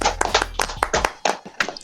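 A few people clap in a brief, uneven round of applause, close and fairly loud, with sharp irregular hand claps and no talking.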